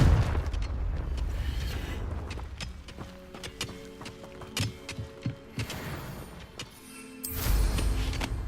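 Confringo fire spell blasts in Hogwarts Legacy, a run of booming impacts with rumbling low end and a heavy burst near the end, mixed with game ambience and music.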